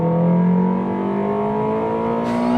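Honda Integra DC5 four-cylinder VTEC engine revs hard under acceleration, a loud, steady, rising mechanical wail heard from close up, climbing in pitch through the VTEC crossover without any talk.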